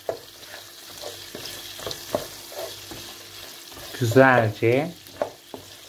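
A spoon stirs bulgur with pepper paste in a sizzling pan, soft scrapes and light frying under a few quiet spoken words, with a louder stirring burst toward the end.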